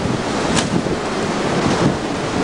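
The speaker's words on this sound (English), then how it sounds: "You can probably hear all the noise, all the wind blowing." Strong wind roars steadily in the aftermath of Hurricane Katrina in Bay St. Louis, a loud, continuous buffeting rush with gusty swells.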